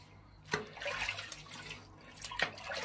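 Water runs from a tap as hands are rinsed at a sink after shaving, a soft steady splashing with a couple of sharper knocks, fairly quiet and close.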